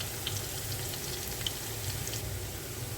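Onions fry in a pan for chana pulao, a steady close sizzle with light crackling pops throughout, no voices.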